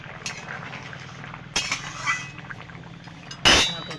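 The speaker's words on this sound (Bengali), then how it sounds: "ঢাকনাটা তুলে একটু নাড়িয়ে দেব।" A metal lid clanks off a simmering pot of mrigal fish curry with potato and tomato, followed by a spoon scraping and stirring, a couple of sharp clinks over a faint bubbling background.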